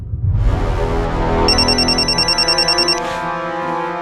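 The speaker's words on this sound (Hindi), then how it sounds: "ये तो कोई अननोन नंबर है। उठा फोन उठाइए, समर का हो सकता है।" An incoming call sets a phone ringtone going, a loud electronic melody with a bright, rapidly pulsing trill that plays clearly and alone for several seconds before it stops.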